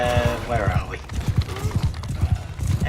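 A horse's hooves clip-clop on the ground in Mount and Blade II: Bannerlord, a quick irregular run of close, loud thuds with a brief whinny-like tone near the start and speech blended in.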